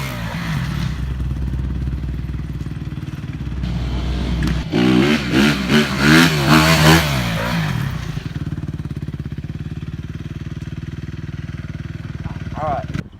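Dirt bike engine revs hard through a sit-down wheelie, the note rising and wavering in a loud burst midway before settling back to a steady idle-like drone, close by.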